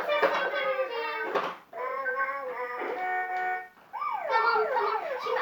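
Toy police car siren, an electronic wailing and warbling tone in several bursts with short gaps, close and fairly loud, ending in a fast sweeping yelp pattern.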